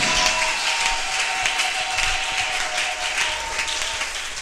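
A church congregation applauding at a Sunday service, a continuous dense wash of clapping from many hands, steady and moderately loud throughout without a break.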